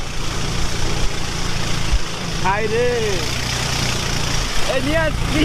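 A boat engine runs steadily on a river trip in the Bandarban hills of Bangladesh, a continuous low drone heard throughout with voices talking over it.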